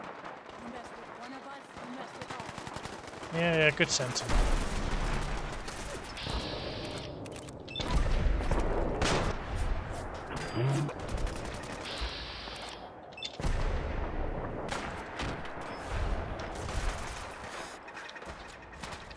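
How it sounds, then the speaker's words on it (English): Gunfire in Fallout 4 comes in irregular bursts of sharp shots and rapid volleys mixed with mechanical clanks and game effects, while someone talks over the action. "gunfire is really going to annoy me."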